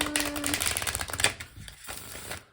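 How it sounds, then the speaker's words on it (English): A tarot card deck is shuffled close by, a dense riffling flutter of cards followed by softer slaps and shuffles as the cards settle. "I'll just shuffle once more, and then we'll cut the deck"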